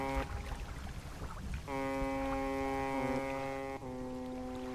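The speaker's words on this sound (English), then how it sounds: "And he honks back at me." In the fishing game Dredge, an anglerfish answers with a long, steady horn-like honk of layered tones, sounding twice in a row over soft water and ambient background noise.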